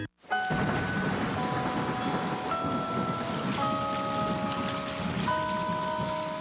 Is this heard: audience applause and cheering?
no